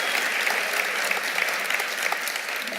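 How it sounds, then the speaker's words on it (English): Steady audience applause fills a lecture hall at an Origins Project dialogue, dense and sustained clapping with no voices on top. "let's have a round of applause if you want to have that"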